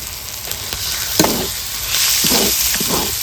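Tomato tossed into hot oil with whole garlic and spices in a pan, giving a loud, close, steady sizzle that swells about halfway through, with a few quick stirring scrapes.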